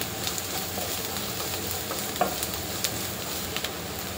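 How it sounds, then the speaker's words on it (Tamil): Onions sauté in a pan for prawn masala with a continuous soft sizzle and occasional light stirring clicks, close and steady with no voices. "வந்து ஒரு பொன்னிறமாக வதங்குற அளவுக்கு நல்லா வதக்கலாம்."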